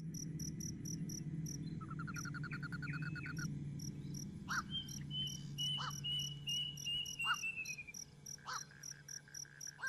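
Crickets chirp steadily and fairly close throughout a horror short film scene, a continuous trilling bed joined by brief, sharper pulsed calls in the second half, with no voices.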